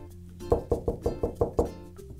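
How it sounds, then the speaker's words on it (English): Six evenly spaced knocks on a door ring out close and clear in a steady rhythm, with no talking over them. "It's somebody else's turn to knock."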